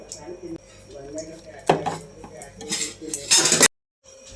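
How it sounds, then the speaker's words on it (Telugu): Ginger is pounded for tea with a series of sharp, irregular metallic knocks and clinks close by, ending in a hard clatter before a sudden silence. "కాస్త అల్లం దంచి వేస్తే టీలో చాలా బాగుంటుంది"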